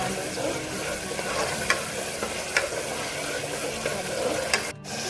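Gravy simmering and frying in hot oil in a pan for a sev usal dish, with a steady dense sizzle throughout and a few soft clicks of a spoon against the pan, close and continuous.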